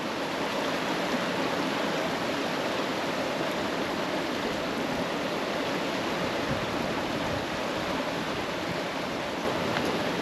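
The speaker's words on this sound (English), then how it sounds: "It's just a big old river. They got like a little mini dam." Big river pouring over a small dam on the Mekong in Laos, a steady, loud, broadband rush of falling water that holds even throughout with no pauses and no voices.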